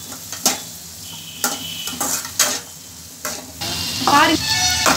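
Raw green mango pieces are sautéed in a pan for mango pachadi, with a steady sizzle under repeated spatula scrapes and knocks against the pan, close and moderately loud.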